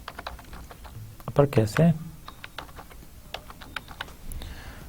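Computer keyboard typing in quick scattered key taps, close and moderately loud, with someone speaking Hindi briefly over the clicks during a programming lecture.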